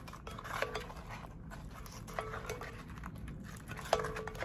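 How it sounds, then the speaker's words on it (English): Metal utensil stirring food coated in barbecue sauce inside a pan, with soft scraping and several light clinks against the side, quiet and close, no talking. "Gonna stir it up."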